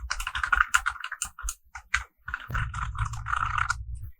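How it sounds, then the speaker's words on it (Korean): Keys clatter on a computer keyboard, a quick run of sharp close taps followed by a denser burst of keystrokes as Alt+Enter is pressed while typing into a spreadsheet cell. "여기서 엔터 치는 방법은 Alt 누른 상태에서 엔터를 쳐주시면 됩니다."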